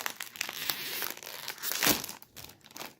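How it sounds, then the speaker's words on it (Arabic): A crinkly plastic snack bag of Lulu Puffs being torn open and handled, with dense crackling and crumpling bursts for about three seconds and a loud rip near the middle, close and with no talking. "هنفتح كيس ونحط بقى الفارغ ايه"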